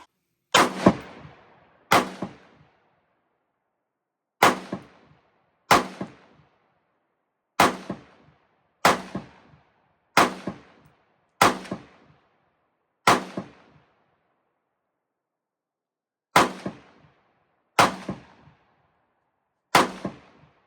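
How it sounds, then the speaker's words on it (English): Sharp gunshots crack out at a shooting range in a magazine dump, roughly a dozen loud, close reports fired singly and in quick pairs with short gaps between, each followed by a brief ringing decay. "Let's see what it does with a mag dump."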